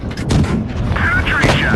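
A tank cannon fires in the World of Tanks Blitz video game, a heavy boom with rumbling mechanical noise, heard under a man's speech.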